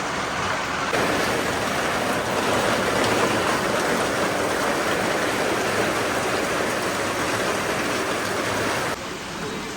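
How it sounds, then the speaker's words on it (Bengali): Heavy rain pours steadily on a tin-roofed shop during a violent storm, a dense continuous roar that swells in loudly after a quiet second and holds near and full before easing slightly at the end. "তো গাইস অবশ্যই আল্লাহর বৃষ্টি নামা শুরু হয়ে গেছে।"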